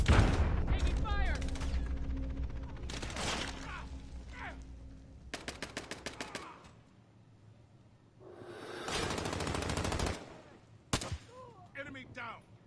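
Bursts of automatic gunfire and single shots ring out in a Call of Duty match, loud rapid volleys separated by quieter gaps, with game voice callouts mixed in.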